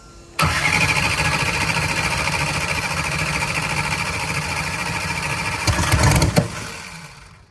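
A billet Hemi engine cranks and catches, roaring into a loud rough rumble that holds for several seconds, surges briefly near the end, then cuts out.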